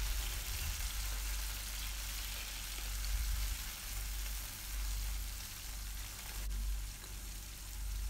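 Tomatoes sauté in a pan for Poondu kara kuzhambu, a soft continuous sizzle over a low rumbling hum, fairly quiet and steady with no voices.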